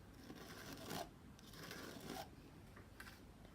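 Paint scraped through a cog stencil in an art journal: faint, close rasping strokes, a few short scrapes in irregular rhythm with quiet pauses between.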